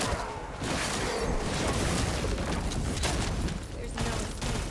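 Gunfire from a gun in The First Descendant video game, rapid bursts of shots in a continuous fusillade with impacts, loud and dense, while a player talks over it.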